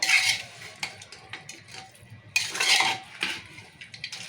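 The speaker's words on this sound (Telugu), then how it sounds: "ఇప్పుడు ఇదంతా కలుపుకున్నాం మంచిగా" Goat head curry with spices is stirred in a metal pot, giving repeated close scraping and clattering strokes of a spoon against the pot, without speech.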